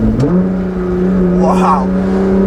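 A 2015 Nissan GT-R with Meisterschaft exhaust and tune, held in first gear with a loud, steady engine drone that climbs in pitch early on, then holds a sustained rev while a voice speaks briefly mid-way.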